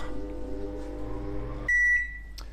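A microwave oven at 900 watts hums with a steady low drone while softening butter, then cuts off with a sharp, sustained electronic beep followed by a faint click.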